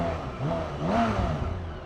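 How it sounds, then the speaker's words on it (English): A 2023 BMW K1600 Bagger motorcycle engine revs up smoothly while the bike is backed up in reverse, a steady mid-pitched hum swelling and easing over two seconds, moderately loud and close. "So it just raises the revs up."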